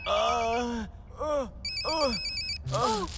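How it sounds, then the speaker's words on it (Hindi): An electronic telephone ring chirps in a repeating pattern, mixed with a voice groaning and exclaiming in short bursts between the rings. "मंसूर का फोन।"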